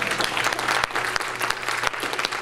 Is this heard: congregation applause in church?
yes